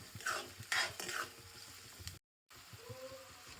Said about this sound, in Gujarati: આને સારી રીતે મિક્સ કરી નાખશું. 2 મિનિટ માટે સાતળવા દઈશું.